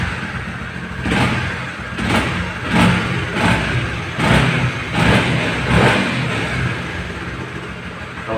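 Honda CB150R motorcycle engine running normally after an ECU reset, close up, with rhythmic throttle blips rising and falling roughly every second over a steady idle.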